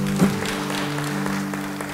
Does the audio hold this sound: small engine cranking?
no